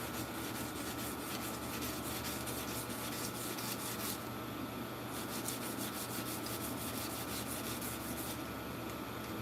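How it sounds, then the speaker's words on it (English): A sword blade is sanded and polished by hand, a steady, close scratchy rubbing with rhythmic back-and-forth strokes that continues without pause. "Polishing the blade is just kind of one of the last steps"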